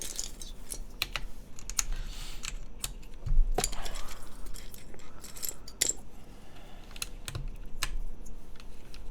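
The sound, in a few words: typing on Merisi x Mechlovin Sintesi mechanical keyboard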